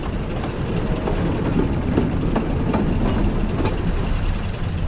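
A train rumbles steadily along the tracks with a continuous low roar and faint rhythmic clatter, moderately loud throughout.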